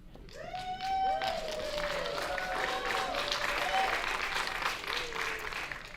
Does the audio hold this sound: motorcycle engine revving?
no